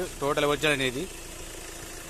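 A 2015 Hyundai Creta 1.6 SX(O) top-end diesel idles with a steady, even low rumble; someone talks briefly over it at the start, then the engine continues alone.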